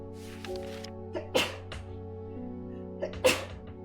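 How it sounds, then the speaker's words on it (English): Two sharp sneezes, a couple of seconds apart, burst out over a steady musical background during outdoor game exploration, each a brief loud blast rising above the low humming tones. "I had to sneeze"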